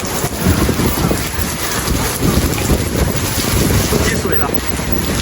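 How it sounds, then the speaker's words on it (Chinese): Strong wind roars steadily during a typhoon rainstorm in Guangzhou, a loud, continuous buffeting rush with no pauses, likely mixed with rain noise. "这里很大风啊"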